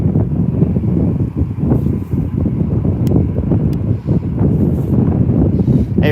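Strong gusts buffet the microphone at Birmingham Airport with loud, rumbling low-end roar that surges and dips throughout, with no voices.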